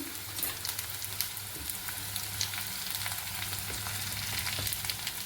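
Dried red chillies fry in a pan with spices for a paneer curry, giving a steady crackling sizzle with scattered pops and a low background hum.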